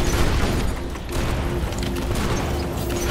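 Dense robot gunfire and booming blasts from War Robots on PC keep up a loud, continuous barrage, with low rumbling impacts and clattering mechanical fire running through the whole stretch and no talk.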